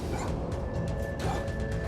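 A dog gives short, yipping barks over loud outdoor street rumble in a neighborhood, with a few quick whimpering yelps in the mix.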